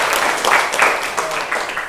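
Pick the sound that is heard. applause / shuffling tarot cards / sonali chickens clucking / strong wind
applause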